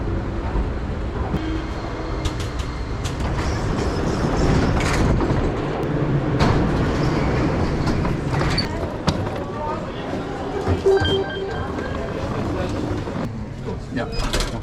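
An airport shuttle train at Charles de Gaulle rumbles and clanks along with mechanical knocks, a hollow rolling noise under people talking throughout.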